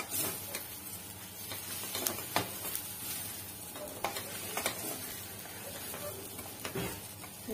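Soya chunks and rice stirred in a pan with a spoon, giving faint repeated scraping clicks and knocks over a soft continuous sizzle, with no talking.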